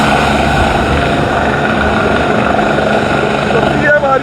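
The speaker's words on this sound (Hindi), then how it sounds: "सीएम हरियाणा का हेलीकॉप्टर उठ चुका है" The Haryana Chief Minister's helicopter lifts off, a loud, continuous rotor and engine roar dominating the scene close by, with faint voices near the end.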